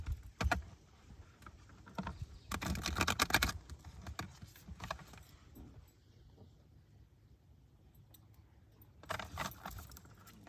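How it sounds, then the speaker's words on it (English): A deck of cards is shuffled by hand in several short, crisp riffling bursts separated by quieter handling sounds, close and fairly soft. "I want to make sure I shuffle this good."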